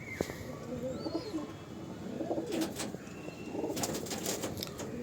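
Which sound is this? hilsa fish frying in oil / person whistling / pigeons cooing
pigeons cooing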